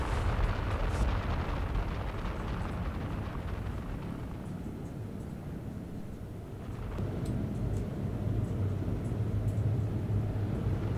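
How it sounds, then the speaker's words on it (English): Missiles strike and explode against a space station in Star Citizen, producing a heavy, continuous rumbling roar with a fresh surge of blasts partway through, fairly distant and sustained. "Dude, the missiles are going through the station."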